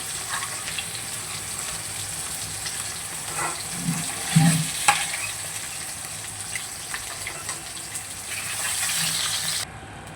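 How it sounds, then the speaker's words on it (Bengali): Pieces of fish, hilsa among them, fry in a pan with a steady broadband crackle and sizzle running throughout, a few soft clinks and thuds partway through, moderately loud with no talking. "এবারে বাকি মাছগুলো আবারও ভেজে নেব।"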